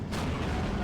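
A single heavy cannon blast from a KV-85 tank firing on a T-34 in the Steel Division 2 war game, a deep booming report that rolls on as a sustained rumble, loud and close, with no talk over it.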